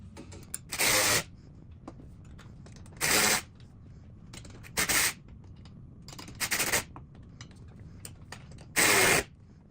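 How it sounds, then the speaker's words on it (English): A 7/16 ratchet tightening bolts on a golf cart cooler and ball washer bracket: five loud bursts of rapid ratcheting clicks, each under a second long, spaced irregularly with quiet gaps and no talk. "it's ready to tighten everything up. Once again, we're using a 7/16 ratchet and a 7/16 wrench."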